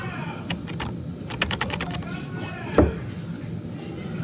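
Rapid keystrokes on a computer keyboard, a close run of clicky taps in quick bursts with brief pauses and a heavier thump near the end, over faint room noise.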